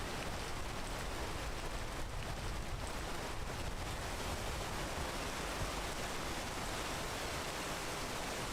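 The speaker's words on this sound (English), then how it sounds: "And of course the rain starts." Steady, dense rain pours down in a video game, a constant wash of hiss at an even level from start to finish with no pauses and no voices.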